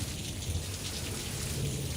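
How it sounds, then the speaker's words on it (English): Heavy rain pours down in a steady dense hiss during a thunderstorm, with a low rumble underneath; no voices are heard. "it started to downpour just like this"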